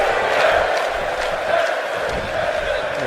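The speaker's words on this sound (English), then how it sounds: "I don't know what the hell this crowd's chanting," Crowd noise from an arena audience at the ECW Arena during a wrestling match in WWE 2K18, a steady, loud roar of massed voices with chant-like swells throughout.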